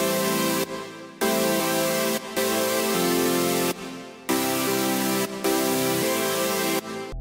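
A lush layered synth chord stack plays in sustained blocks, pausing briefly between chord changes, bright and wide like future bass, with no voices.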